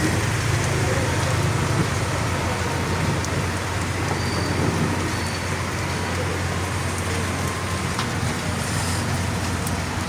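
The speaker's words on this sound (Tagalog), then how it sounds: "walang tigil ang ulan" Heavy rain pours steadily during a typhoon in a dense, unbroken hiss, loud and close, with no pauses throughout.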